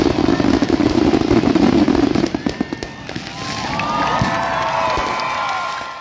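Fireworks crackle and pop in rapid bursts at Mindil Beach in Darwin during Territory Day celebrations, followed by whistling rockets and a crowd cheering in the background.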